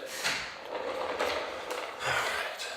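A door being shut indoors near a home gym, giving several soft thuds and sliding, scraping bumps spread over a few seconds, fairly close and moderately loud, with no talking.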